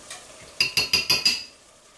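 Sour cream whisked into a sauce for an instant crema: five quick, even metal-on-bowl whisk strokes land in a close, fairly loud burst, then stop, with no talk.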